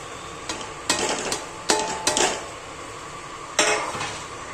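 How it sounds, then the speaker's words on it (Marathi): Sugar being stirred into a coconut filling for karanji in a metal vessel, with a few sharp utensil clinks and scraping sounds in short bursts, fairly close and without talk. "आणि आता ही साखर याच्यामध्ये मिक्स करायची"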